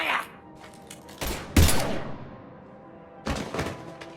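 Gunfire during a firefight in Mass Effect 3: a couple of sharp, loud bursts of shots with echoing tails, separated by quieter gaps.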